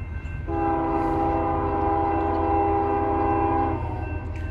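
A CSX freight train hauling tank cars passes through South Georgia. Its horn sounds one loud, sustained chord for about three seconds over the deep rolling rumble of the railcars.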